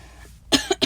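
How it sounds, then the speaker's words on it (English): A woman's cough, three short sharp bursts in quick succession, close and fairly loud after a brief quiet moment. "Yes, I have a cough still"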